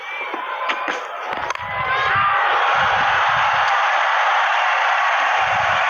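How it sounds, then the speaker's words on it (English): A cricket crowd at the ground during an early-2000s New Zealand versus Australia tri-series match, a broad sustained roar of cheering that swells after a few seconds and holds steady, with a commentator's voice faintly underneath. "Crowd have just started to lift a bit with these runs starting to flow."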